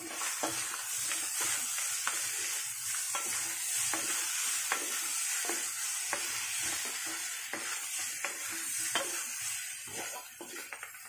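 A spoon stirs dinuguan, pork blood stew, in a sizzling pan, with repeated scraping strokes in an irregular rhythm over a steady close hiss of frying.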